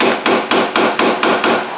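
A hammer taps a front strut assembly into place on a 2006 Chevy Cobalt so the splines engage, giving eight sharp, evenly spaced metallic strikes about a quarter second apart, loud and close with no voices.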